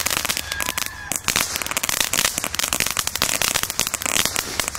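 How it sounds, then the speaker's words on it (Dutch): A Lidl consumer crackling-shot firework crackles loudly outdoors, a dense burst of rapid sharp pops and sizzling crackles running continuously for nearly five seconds. "We gaan nu de crackling shot doen."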